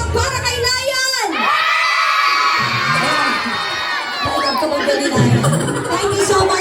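A group of children yell and cheer at a seventh birthday party, a loud, continuous mass of high-pitched voices that swells, dips briefly, then surges again toward the close.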